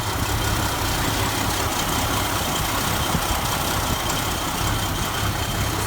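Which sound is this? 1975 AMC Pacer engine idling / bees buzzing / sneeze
1975 AMC Pacer engine idling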